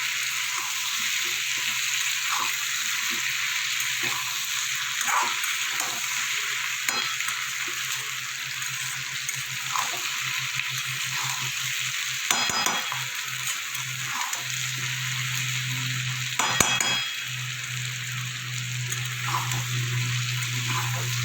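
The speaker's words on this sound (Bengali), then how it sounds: "আলুর সাথে ভালো করে কষিয়ে নেব।" Potatoes and spices for a Bengali egg curry sauté in a pan with a steady, close sizzle, punctuated by recurring scrapes and stirs of a spatula, a brief louder clatter near the end, with no talking.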